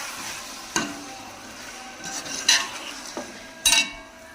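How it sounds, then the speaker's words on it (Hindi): Chicken and tomatoes frying in a pot for chicken pulao, with a soft steady sizzle and a few sharp scrapes and clinks of a spoon stirring against the metal. "चिकन अच्छे से फ्राई कर लेंगे।"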